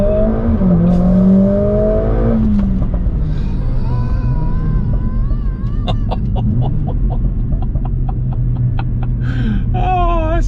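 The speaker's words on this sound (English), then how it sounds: "left foot hard down, right foot down, race start, release brake to start." A 500 hp Mercedes-AMG A45 S launches from a race start, its loud engine roaring close up as it climbs through the gears with rapid upshifts and pops, the revs rising and dropping in steps.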